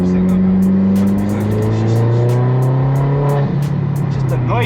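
Loud Audi S3 8L with the 210 APY engine revving hard, a deep, droning exhaust roar holding high revs with rising and falling pitch, close and continuous, with faint ticking and clattering on top.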